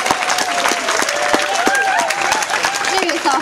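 Audience applause at a wildlife park animal show, dense and steady clapping throughout with a voice speaking over it.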